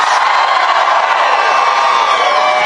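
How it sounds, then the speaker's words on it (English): A big crowd at a political rally in Selma cheers loudly and continuously, a dense wash of whoops and shouting that stays steady from start to finish. "This is a big crowd of people."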